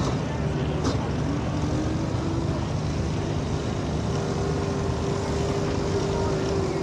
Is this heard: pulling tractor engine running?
yes